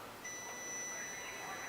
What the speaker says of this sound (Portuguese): já emitiu o sinal sonoro, deu continuidade.